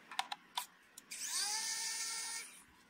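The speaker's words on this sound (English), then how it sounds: "I'll use my electric screwdriver to do this." An electric screwdriver backs out tiny T5 screws from a Logitech MX Master mouse, a few faint clicks followed by a quiet high-pitched motor whir lasting just over a second, close and alone with no talk.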